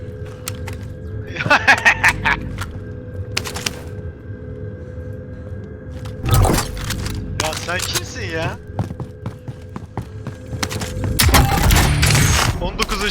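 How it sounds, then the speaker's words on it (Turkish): Assault rifle fire in the Call of Duty: Warzone battle royale game, crackling in several bursts of shots under steady game background hum, with someone talking over parts of it. "Assault Rifle'la bayağı sıktım."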